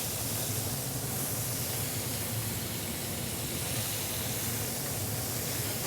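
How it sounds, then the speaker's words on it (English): Lobster claws and body sections sear in a very hot pan, giving a loud, steady, close hiss like rushing steam that holds evenly throughout without any talking. "as it's searing, I just move the shells around to make sure they get seared evenly on all sides"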